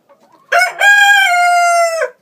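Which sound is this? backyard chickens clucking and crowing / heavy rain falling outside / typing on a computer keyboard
backyard chickens clucking and crowing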